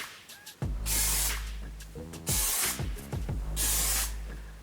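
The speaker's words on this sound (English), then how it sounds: "I'm going to start today with some volume mousse." Volume mousse sprays from a pressurised can in three loud hissing bursts with short pauses between them, close and with no talk.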